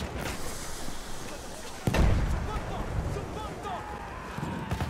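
Grenade blasts in the Battlefield 1 video game during an Operations match, a sharp loud burst near two seconds followed by a rumbling, noisy battle din with other scattered explosions.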